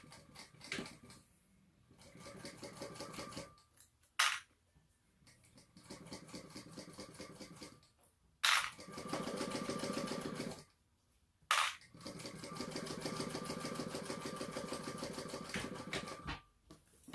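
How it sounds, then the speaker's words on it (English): A sewing machine stitches a quarter-inch seam on a purse in steady, whirring runs of several seconds each, broken by short pauses and a few sharp clicks, close and clear with no talk. "We're going to sew at 1/4 of an inch seam allowance"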